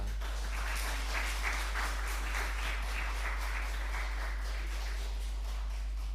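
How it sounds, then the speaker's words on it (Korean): A church congregation at a Sunday worship service claps in welcome, steady sustained applause over a low electrical hum, with no voices. "우리 옆에 있는 분들도 박수로 환영하겠습니다"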